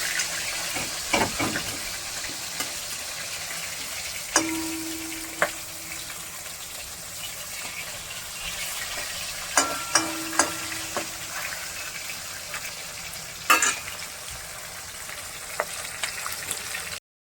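Fish sizzle steadily in hot oil while being flipped, a continuous crackling fry broken by a few sharp scrapes and knocks as the pieces are turned, close up and with no talking.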